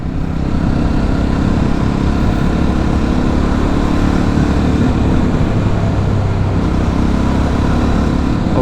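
A 2024 Jawa 350 motorcycle engine runs continuously, loud and close, with a throbbing, old-style two-stroke-like character, steady throughout with no voices.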